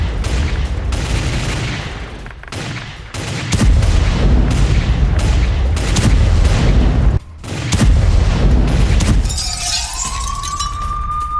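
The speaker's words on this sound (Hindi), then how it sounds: "D-30 होवित्जर तोप से हमले का वीडियो सामने आया" D-30 howitzer artillery fire in a combat setting: a rapid series of loud booms and blasts with crackling debris, a brief pause, then more heavy firing ending in a rising whistle-like tone.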